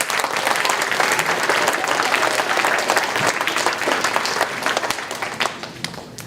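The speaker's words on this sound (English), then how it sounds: "Can we give them a round of applause?" Sustained applause from an audience at a lower school band holiday concert, dense and steady throughout before thinning slightly toward the end.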